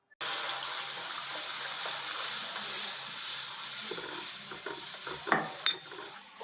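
Gram flour and buttermilk batter poured into a wok, a steady liquid pour with a hissing trickle throughout, followed by a few clinks of a utensil against the pan near the end.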